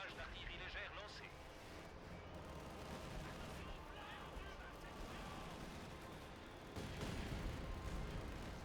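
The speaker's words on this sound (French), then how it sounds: "Barrage d'artillerie légère lancé." Light artillery barrage in Company of Heroes 2: dense, continuous rumbling shell fire and distant explosions, fairly quiet overall and swelling near the end, while a voice talks over the battle noise.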